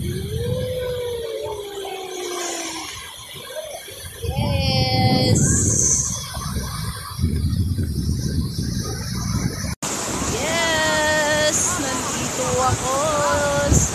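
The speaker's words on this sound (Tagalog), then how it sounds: "Ganda talaga ng alon." Sea waves break on a shore as a steady broadband wash, partly buried under gusting wind noise on the microphone, with a person talking in a high voice over the surf.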